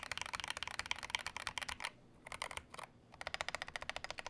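Rapid typing on a NEO G67 keyboard with Tangie switches, dense clacky keystrokes close up, broken by two short pauses before bursts resume.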